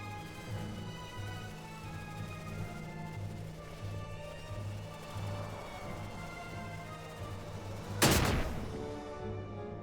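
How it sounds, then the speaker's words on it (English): A loud, sudden burst from a Final Fantasy XII explosion rises out of a steady layer of game music and ambience, then fades within about a second. "Explosion."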